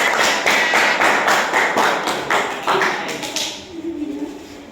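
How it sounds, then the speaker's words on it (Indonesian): Applause for a group of participants at a teachers' coaching session, a burst of rapid clapping from several people that fades out over a few seconds, ending in quieter room noise. "Kita kasih aplaus untuk kelompok 3."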